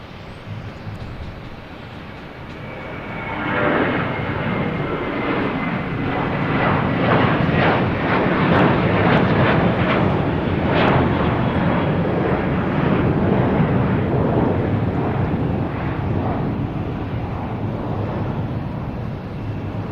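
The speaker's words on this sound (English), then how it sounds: "we have a JetBlue taking off to Raleigh-Durham in A320" A JetBlue Airbus A320 takes off from Boston Logan bound for Raleigh-Durham, its engine roar surging in after a quieter start and staying loud and rumbling, with gusty outdoor wind on the microphone and no talk.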